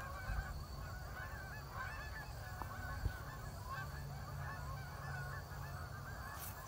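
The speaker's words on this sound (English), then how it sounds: "See the geese going over?" A flock of geese honking as they fly overhead, a continuous chorus of many calls at moderate distance over steady outdoor background noise.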